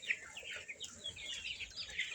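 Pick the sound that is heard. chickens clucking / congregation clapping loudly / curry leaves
chickens clucking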